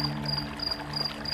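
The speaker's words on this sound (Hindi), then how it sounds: "सिर्फ झींगुरों की आवाज सुनाई दे रही थी।" Steady high-pitched cricket chirps in a regular pulsing rhythm over a quiet, low background hum.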